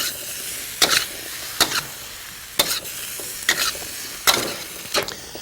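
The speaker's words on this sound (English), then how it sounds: "continue cooking, stirring every now and then till the zucchinis are soft" Zucchinis cooking in a wok, a steady soft sizzle broken by about six sharp scraping stirs spaced roughly a second apart, close and fairly quiet.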